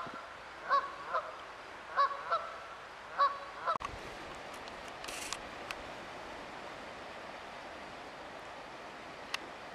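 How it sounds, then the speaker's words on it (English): Wild geese honk near a fishing spot while someone forages for wild edibles outdoors. Several loud, separate honks come in the first four seconds, then a few faint clicks and quiet outdoor ambience follow. "Looked like I disturbed some geese."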